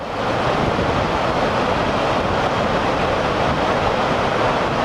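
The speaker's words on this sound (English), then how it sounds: "these falls are some dangerous places and you have to be real careful" Rapids at Sandstone Falls on a river rush in a steady, loud roar of white water that holds constant throughout, with no voices.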